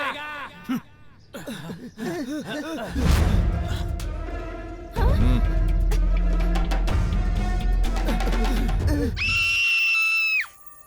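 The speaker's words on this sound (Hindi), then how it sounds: "हमारी बिल्डिंग के फ्लैट नंबर 501 से चीखने की आवाजें आ रही हैं सर" Screaming from flat 501 of an apartment building, loud and sustained over dramatic horror-film music with heavy low thuds, ending in a shrill high tone.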